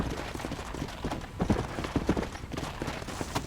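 Horse hooves in the Red Dead Redemption game clop steadily at a trot, fairly close and moderately loud, under ambient game sound with a few sharper hoof strikes.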